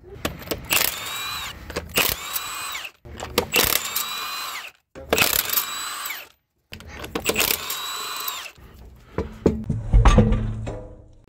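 Power tool, likely an impact wrench, removing wheel bolts from a Volvo car during a brake disc and pad replacement, several loud whirring bursts separated by short pauses, followed by clanking handling sounds at the end.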